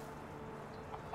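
A chicken clucks in the medieval farming game Medieval Dynasty, a few short clucks near the end over a steady, busy game background.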